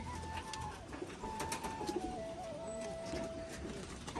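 Rajshahi pigeons coo softly and repeatedly at close range, their low throaty calls rolling over a faint background of outdoor murmur.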